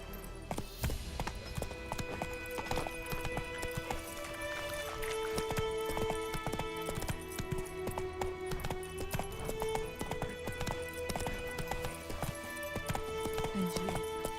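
The horse Roach gallops in The Witcher 3, hooves clip-clopping in a quick, continuous rhythm close by, with game music tones and occasional ambient sounds layered over the hoofbeats.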